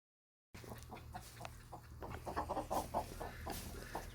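Broody Cochin and Silkie mother hens with chicks clucking softly on a hot day, scattered short clucks and peeps close by, starting after a brief silence, with no talking.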